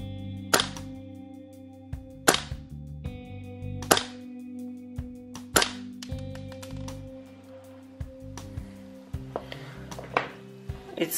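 WE M4/HK416 HPA gas-blowback airsoft rifle fired through a chronograph, sharp single shots cracking roughly every one and a half seconds, followed by a quicker burst of lighter snaps over a steady hum.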